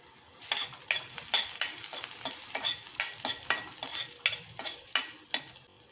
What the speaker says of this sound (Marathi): लसूणला छान असं परतून घ्यायचं